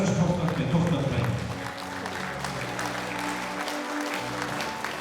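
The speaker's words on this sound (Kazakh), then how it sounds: "Шапалақтарыңыз қайда, қадірлі ағайын? Тоқтатпай ұрыңыздар, тоқтатпай." Audience applause fills a hall at an 80th birthday celebration, a steady wash of clapping throughout while a voice speaks over it, louder talk early on easing into continuous applause.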